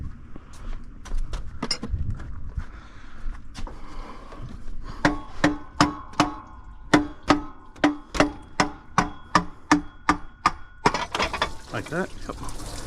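A hammer knocks repeatedly at a part on a RAM truck engine during coolant leak repairs, sharp metallic strikes in a steady series of about a dozen blows after a few scattered earlier taps, outdoors.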